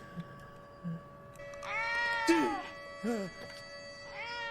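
A cat in the Cowboy Bebop anime meows several times, drawn-out tonal cries rising and falling over a low steady hum, after a couple of soft thumps at the start.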